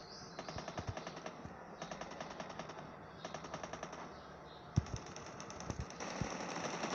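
Repeated bursts of automatic gunfire in a Call of Duty Mobile battle royale match, fairly faint and distant, with a few sharper single shots standing out.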